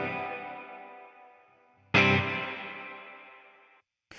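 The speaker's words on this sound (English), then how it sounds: "That is a plate reverb." Two strummed electric guitar chords played through a plate reverb on a pedalboard, each ringing out into a long, shimmering, slowly fading tail, the second hit louder, ending with a brief new attack.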